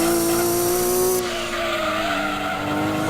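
Ford GT350 engine in the racing game Gran Turismo 2, a thin, strained high-revving drone with a steady pitch, loud and continuous alongside tire skidding, with no voices.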